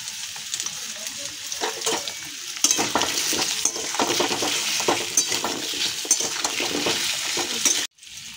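Chunks of taro and potato fry and sizzle in hot oil in a pan while a spatula stirs them, scraping and clinking against the metal. The sound is steady and close, with no talking, and drops out briefly near the end.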